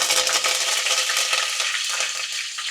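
Curry leaves sizzle in hot oil with cumin seeds for a Gujarati green pigeon pea kadhi tempering, a close, steady, loud crackling fry that holds evenly throughout.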